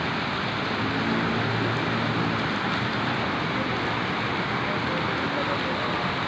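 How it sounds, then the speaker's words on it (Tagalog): Heavy storm rain pours down steadily at Rockwell, a dense, even hiss that fills the whole stretch without letting up, with a faint voice underneath. "Ayaw tumigil ng ulan."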